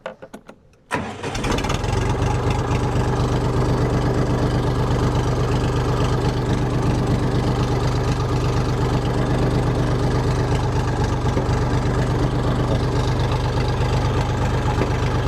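A Forte RD 244 Lux mini tractor's engine cranks and catches after a second of quiet, then settles into a loud, steady, close idle that runs on unchanged, with no talking.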